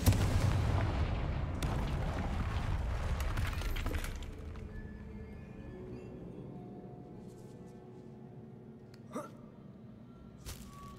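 Confringo fire spell in Hogwarts Legacy: a loud, dense blast of crackling and shattering debris for the first four seconds, then a rumbling tail with sparse small impacts and two sharp pops near the end.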